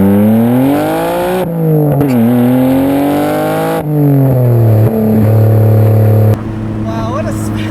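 A 1990 Nissan Skyline GT-R R32 revs and accelerates hard, its loud engine note climbing through several gear changes with brief drops in between before easing off at the end.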